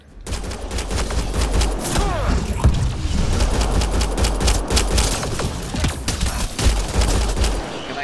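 Dense, continuous gunfire and heavy booming thuds fill a firefight in the video game Mass Effect: Andromeda, loud and sustained throughout.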